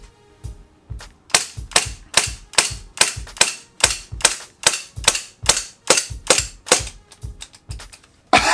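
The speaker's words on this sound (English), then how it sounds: "this thing kept firing for at least 3 more shots" An SRC SR-33 Tokarev TT-33 airsoft gas pistol fires BBs in a quick series of about twenty sharp, loud cracks with short gaps between them, the slide clacking on each shot.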